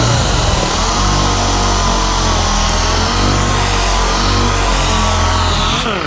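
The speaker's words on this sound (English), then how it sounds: "Kind of hear how low powered it sounds" An old Chevy engine in poor condition drones loudly and continuously up close, its low-powered tone wavering slightly without climbing in revs, ending with a brief shift near the close.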